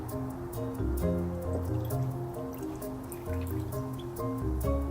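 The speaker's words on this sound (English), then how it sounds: "first I'm going to pour in the hexane diamine" Hexane diamine solution is poured into a container to prepare a nylon rope experiment, a steady liquid pour with dripping and trickling that runs close and even for several seconds.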